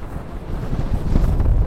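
Strong wind blows outdoors, buffeting the microphone with a loud, steady low rumble that swells slightly toward the end, and no voices are heard.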